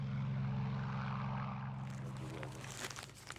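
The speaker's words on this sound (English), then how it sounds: "Alan's flying days are over, so it's left to Charlie to pilot his plane home" A WWII Spitfire flies with a steady, loud propeller-engine drone that holds throughout and blends with broadband wind noise as it passes.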